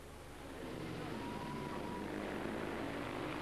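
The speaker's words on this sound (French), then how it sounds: "Énormément d'inertie dans ces vieux monocylindres tchèques, moteur Jawa." Old Czech Jawa single-cylinder speedway motorcycles race past, their engines building into a steady, dense, droning roar heard from a distance and sustained to the end.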